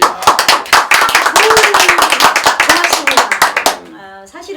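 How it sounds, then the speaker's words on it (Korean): An audience at a Korean speech lecture claps loudly and rhythmically in close, sharp bursts for several seconds, then the clapping fades out as a voice begins to speak. "큰 박수 한번 주세요"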